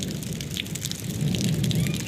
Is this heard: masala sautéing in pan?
no